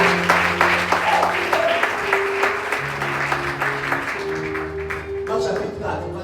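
A church congregation claps and cheers for a sustained stretch. Dense, continuous applause fills the room, with voices and a held musical tone underneath.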